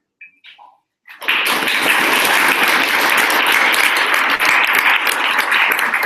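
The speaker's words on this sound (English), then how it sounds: "why don't we applaud while we close on" Audience at a London Ruby user group meetup breaks into loud, sustained applause after a brief quiet moment, a dense wash of many hands clapping that holds steady to the end.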